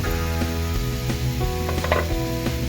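Tomato frying in a pan with chilli powder for a pavta usal, a steady close sizzle with occasional stirring scrapes, heard over a faint musical tone.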